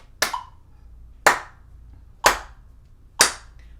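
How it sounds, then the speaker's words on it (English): Four sharp hand claps land at an even, steady beat, one per quarter note, each a crisp close smack with a short decay and quiet between. "So clap quarter notes with me"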